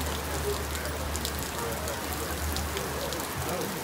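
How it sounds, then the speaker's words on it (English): Steady rain falls across an outdoor Renaissance festival, a continuous broadband hiss of drops on surfaces and awnings, with a low background hum and faint voices of people sheltering under storefronts. "It started to rain here at the Renaissance Festival."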